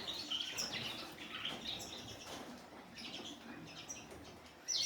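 Caged canaries in flight cages chirp and tweet in quick, overlapping bursts, with faint wing flutters and rustling throughout, fairly close by.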